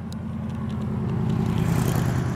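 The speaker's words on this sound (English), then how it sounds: "See that nice car, guys? It's a Corvette, I think." A Corvette passes on a suburban road in Kingsley, Perth, Western Australia, its low engine rumble and tire whir building steadily to a close, loud peak over about two seconds, with no one speaking.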